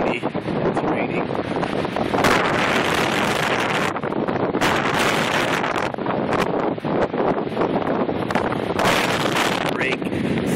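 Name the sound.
wind and rain outdoors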